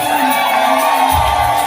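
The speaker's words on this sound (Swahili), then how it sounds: "Nigelegele na makofi tafadhali." Guests at a Lutheran church wedding ceremony in Tanzania ululating and cheering loudly, shrill sustained trilling voices over crowd noise, with a burst of low rumble near the end.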